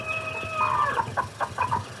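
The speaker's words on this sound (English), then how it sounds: "The old rooster looks proud, too." Chickens on a farm with an old rooster among them: a series of short, clear clucking and crowing calls close by, rising over a steady low barnyard background with no talk.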